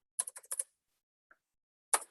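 Keys clatter on a computer keyboard in a quick burst of several close strokes, then one faint tap after a pause and a final louder clack, with no talking.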